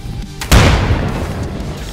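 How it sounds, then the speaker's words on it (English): A hand grenade detonates in the game Escape from Tarkov with one sudden, heavy boom and a rumbling low tail that fades over the next second and a half, close and loud with no talk. "Grenade out!"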